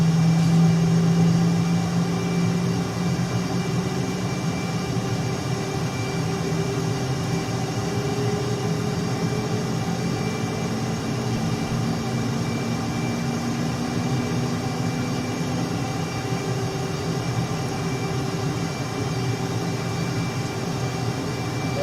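A steady aircraft engine drones in Microsoft Flight Simulator during a climb over Monument Valley. The tone is sustained and even, with a rising whine sliding slowly upward, and no voices are heard.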